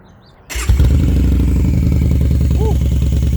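Motorcycle engine firing up after a quiet moment, then settling into a loud, close, rumbling idle with a throbbing beat and a brief throttle blip, with faint talk underneath.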